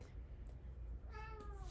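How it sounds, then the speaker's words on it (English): A pet cat named Mew gives a short, faint whiny meow near the end of a quiet indoor moment, with no talking over it. "Look at that cute kitty."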